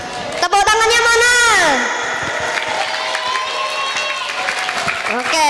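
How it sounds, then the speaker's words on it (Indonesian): An audience at an Islamic Isra Mi'raj commemoration gathering applauds in a loud, sustained burst, with raised voices calling out over the clapping. "Tepuk tangannya mana?"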